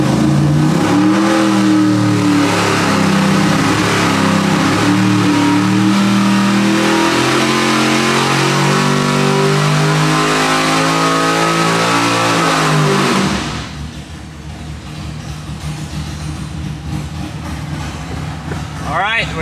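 A 1,000 hp 632 cubic inch Smeding Big Block Chevy V8 roars at full load on an engine dyno, pulling up through the revs loudly for several seconds before cutting off to a lower rumble.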